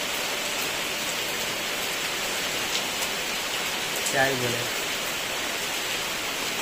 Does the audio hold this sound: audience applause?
no